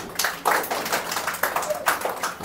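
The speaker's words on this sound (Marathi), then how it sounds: "बोंद्रे, टाळ्या वाजवा बोंद्रेसाठी." Students in a classroom clap together in a short, steady burst of hand claps, close and fairly loud, lasting a couple of seconds.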